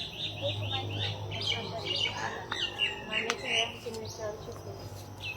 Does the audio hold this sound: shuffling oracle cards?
no